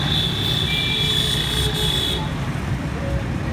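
Busy evening street traffic of motorcycles and cars, a constant roar of engines with a sustained horn toot early on and a few shorter beeps later, all close and loud.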